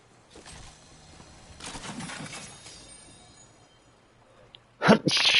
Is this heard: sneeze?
yes